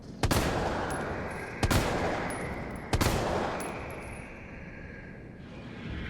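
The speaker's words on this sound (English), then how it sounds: "now I'm going to finally test the Magnum with its custom part attach" A Magnum revolver with an extended barrel fires three loud, sharp shots in Resident Evil 3 Remake. The shots are spaced about a second and a half apart, and each one leaves a long reverberant tail.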